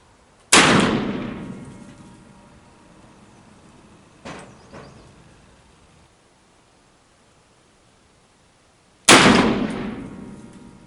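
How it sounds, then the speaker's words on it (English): Three loud gunshots from a Pietta Remington 1858 black powder revolver loaded with 24 grains of triple F powder and Johnson & Dowell conical bullets, the first and last sharp blasts ringing out into long decays, a weaker report between them, with quiet gaps. "First time I shot these out of a Remington"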